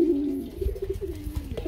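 Sirazi pigeons, a big-sized breed held at a pigeon market, give a soft low coo followed by a few short murmuring coos, close and fairly quiet.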